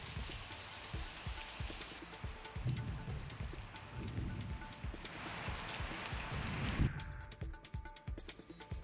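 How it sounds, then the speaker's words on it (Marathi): Rain falls steadily in Sindhudurg district during an unseasonal thunderstorm, a dense patter of drops on surfaces, fairly close and continuous, with no talking. "सिंधुदुर्ग जिल्ह्यात विजांच्या गडगडाटासह पावसानं हजेरी लावली आहे"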